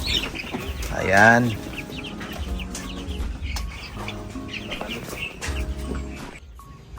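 Pet chickens on a farm cluck, with one loud, near call standing out early and softer clucks continuing beneath a person talking.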